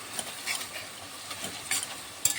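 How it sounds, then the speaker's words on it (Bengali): Onions frying gently on a low flame for chicken curry, stirred with soft intermittent scrapes and a quiet low sizzle throughout, no voices present. "লো ফ্লেমে রাখতে হবে আর সাবধানে নাড়তে হবে যাতে পেঁয়াজের কালারটা বেশি না এসে যায়"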